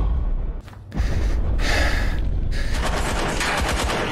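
Gunfire in a tense TV drama scene, loud cracking bursts and a dense rattling volley after a brief lull, close and harsh, with no talking over it.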